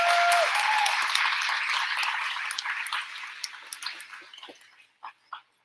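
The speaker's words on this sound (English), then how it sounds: "give them a round of applause" Audience at a school award assembly applauds, a dense wash of clapping that starts full and thins out over several seconds into scattered individual claps.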